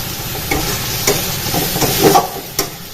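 Ground cumin spice paste frying in a pan for a Bengali cauliflower curry, a steady soft sizzle broken by a few scraping stir strokes, close and with no voices.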